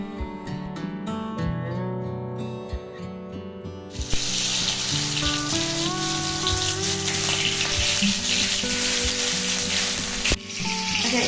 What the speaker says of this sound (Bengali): কড়াই এবার তেল দিয়ে দেবো আমি, দিয়ে আলুটাকে ভেজে নেব।